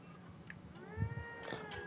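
A cat meows in Mass Effect Andromeda, a short tonal call near the middle with a second softer meow soon after, heard alone without talk.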